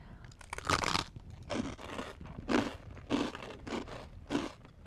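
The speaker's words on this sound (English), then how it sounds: "brace your ears because these are crunchy" Crackers dipped in cottage cheese dip being crunched close to a microphone, with about six loud, separate bites and chewing crunches spread across a few seconds and quieter chewing between them.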